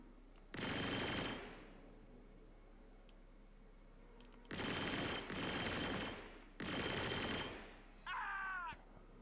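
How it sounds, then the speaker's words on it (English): Bursts of gunfire in a video game with a Fury tank: three sustained loud rattling volleys separated by pauses, followed by a shorter burst with a sharp ringing ricochet-like tone, heard alone without talk. "I hear gunfire."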